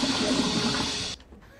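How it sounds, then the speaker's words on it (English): A loud toilet flush rushes steadily for just over a second, then cuts off abruptly into a quiet, faint trickle as the bowl settles. "That toilet flush is super loud, isn't it?"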